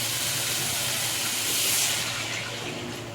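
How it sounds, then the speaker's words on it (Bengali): Water poured into a pan of frying vegetables (radish, pumpkin, eggplant, okra) hisses and sizzles in a loud, steady steaming wash that swells briefly, then eases slightly toward the end, with no talk over it. "এর মধ্যে আমি প্রয়োজন মতো জল দেবো, যার যতটা দরকার।"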